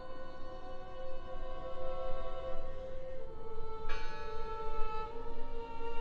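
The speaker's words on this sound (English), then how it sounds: "Listen. The bell." A church bell tolls in the horror video game Draugen, its sustained ringing tones layered over a low ambient drone, with a second strike swelling in midway, no talk.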